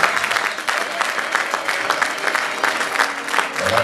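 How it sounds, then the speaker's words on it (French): An audience claps for Philomène on stage, with dense, sustained applause from a crowd. "Applaudissez Philomène."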